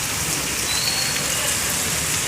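Very heavy monsoon rain pours down steadily in Karimnagar, a dense, even hiss of drops on surfaces with no break and no voices.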